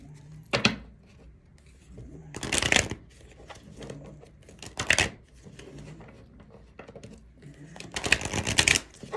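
Bursts of tarot card shuffling, several riffles spaced a few seconds apart, close and crisp against a quiet room.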